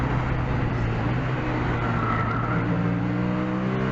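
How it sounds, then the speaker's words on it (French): A race car being pushed hard around a circuit, its engine roaring steadily and loudly close up with a constant broadband rush of tyre and road noise, without speech. "on entend bien les pneus là, j'essaie vraiment d'attaquer"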